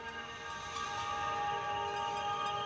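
A steady, shimmering synthesizer drone in Ableton Live with high glassy tones and faint soft ticks, spacious and ambient, with no voices.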